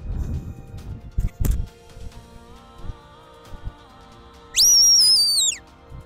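A loud, sharp two-tone shepherd's whistle command to a border collie sheepdog rises and holds for about a second, preceded by soft knocks and a quieter sustained tone.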